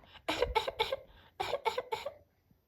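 A string of short, sharp coughs in two quick bursts with a brief pause between, close and clear.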